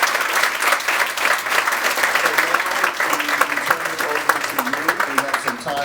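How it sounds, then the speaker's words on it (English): Audience applause for Richmond 2024 mayoral candidates at a public forum, a dense, steady wash of many hands clapping throughout, with some voices mixed faintly underneath. "Let's have a round of applause for all the candidates for this session."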